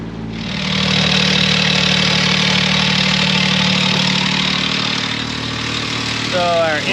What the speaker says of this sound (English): engine overheated and died, but she started back up pretty easy